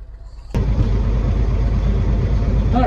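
A 1964 GMC truck with a 401 engine kicks from a low idle into a loud, steady roar as it drives off, the heavy rumble holding close and constant.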